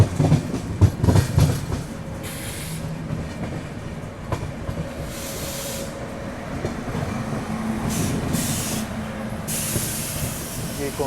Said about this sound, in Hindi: शायद उसके कारण से हमारी ट्रेन जो है बिल्कुल स्लो चल रही है